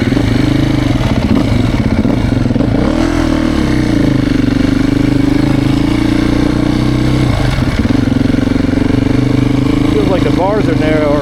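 A 2024 Beta 480RR four-stroke dirt bike engine runs loud and close with a steady throaty drone, with small swells in pitch and a brief rev near the end.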